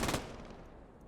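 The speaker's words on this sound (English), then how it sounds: "They're suppressing the enemy with a mixture of artillery fire and then getting close with the infantry with small arm fire." Small-arms gunfire in the World War II shooter Post Scriptum during an infantry push, a single loud, close burst at the start that rings out and fades into a short decaying tail.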